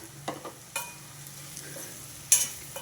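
Fried bitter gourd pieces being stirred into softened onions in a pan, with soft scraping strokes and a couple of sharper clinks over a low, steady sizzle.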